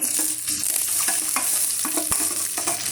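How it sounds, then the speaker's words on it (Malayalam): Mustard seeds frying in hot coconut oil with chilli for a banana stem thoran, giving a steady close sizzle broken by light stirring scrapes and a few sharp pops and clinks throughout. "അപ്പോൾ പിണ്ടിത്തോരന് നമ്മൾ കടുക് വറുക്കാനായിട്ട്"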